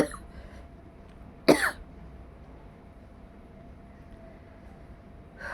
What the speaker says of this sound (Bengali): যখন কাশি তখন গলায় খুব কষ্ট হয়, বুকে কষ্ট হয়